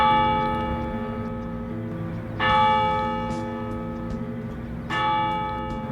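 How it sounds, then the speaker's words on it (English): Old resort bell hanging in a tower rings twice with loud, full strikes, each long, sustained tone hanging and slowly decaying before the next. "a bell that's big enough to have a big sound, and yet small enough to fit in the tower"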